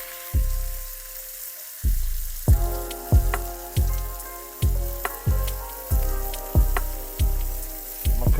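Bacon fries on a Blackstone griddle, a close crackling sizzle punctuated by a series of sharp, regularly spaced low thumps that each fade quickly.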